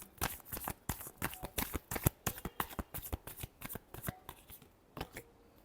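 Tarot cards are riffled and shuffled in a rapid series of crisp, fluttering bursts, close and clear, with short pauses between the riffles and no talking over them.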